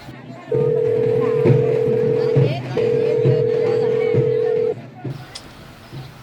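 A phone ringback tone repeats in two long, steady buzzes separated by a short pause, and no one picks up. Faint background noise sits underneath.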